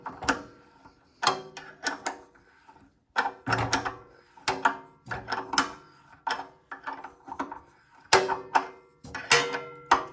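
A wrench clicks and ratchets in short bursts while loosening a 14 mm boost valve on a Simpson pressure washer, with close metallic ticks, brief pauses between groups, and no talking.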